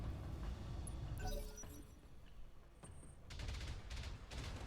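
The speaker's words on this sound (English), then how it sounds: "that's the turret firing" A turret firing in the mech game Battletech: a cluster of sharp, crackling shots followed by rapid repeated bursts, heard at moderate volume against a low rumbling game backdrop.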